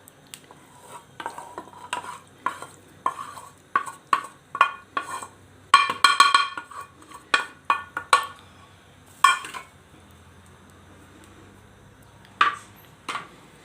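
Mushroom soufflé filling being stirred with a utensil against a pot to melt in the cheese, a series of irregular scraping and clinking strokes close by, with a pause before a final couple of knocks.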